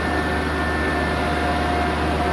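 A small FL6 loader's diesel engine idles at low revs in a garage, a steady droning hum with faint tonal whine, constant and unbroken throughout.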